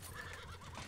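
A horse neighs in a video game with infantry combat, a short whinny at moderate volume over a faint background hum.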